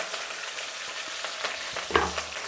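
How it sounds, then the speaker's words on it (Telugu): Onions, green chillies and curry leaves fry in hot oil with a steady broadband sizzle, and a brief clatter of stirring comes near the end; no one speaks. "ఇప్పుడు ఎర్రగడ్డలు, పచ్చిమిరపకాయలు, కరివేపాకు అన్నీ వేసేసాను"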